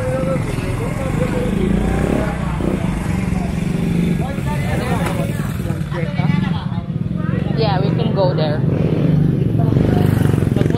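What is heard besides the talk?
motorbike riding through village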